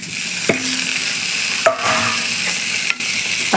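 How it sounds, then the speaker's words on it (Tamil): Tomatoes sautéing in a pan for a Tamil dried-fish curry, a steady close sizzle broken by a few sharp spoon scrapes and stirring knocks, with no talking. "தக்காளி இதே மாதிரி நல்லா வதக்கிக்கோங்க."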